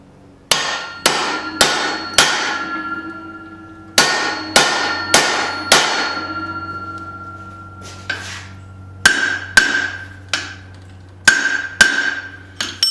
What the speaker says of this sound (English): I'm going to be switching back and forth between my swedge block here and the anvil